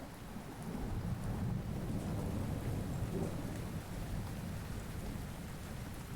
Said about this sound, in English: We turn down the rain just a little bit.